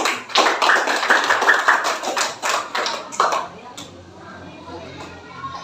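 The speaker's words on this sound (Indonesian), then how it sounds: "Tepuk tangan dulu untuk kelompok 1." Students clap for the first group of presenters in a classroom lesson, a dense burst of hand claps lasting about three seconds that tapers off, with voices in the room beneath it.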